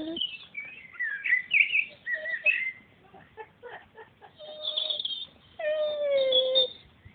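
A dog mourning a dead bird whimpers and cries in high, wavering whines and squeaky yelps, close and fairly loud, rising into a longer drawn-out cry near the end.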